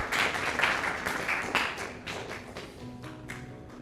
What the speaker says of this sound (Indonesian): Tepuk tangan dulu buat kita hari ini,